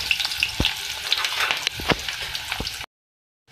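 Onion sizzles in hot oil with star anise, black cardamom, cinnamon and cloves, making a steady close crackle with a few stirring knocks before it cuts to silence.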